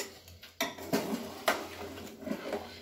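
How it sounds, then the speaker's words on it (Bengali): Milk and jaggery stirred slowly in a pan for dudh puli: soft spoon scrapes and light metallic clinks come in a few separate strokes at close range. "তো এবার আমি নাড়তে থাকবো আস্তে আস্তে।"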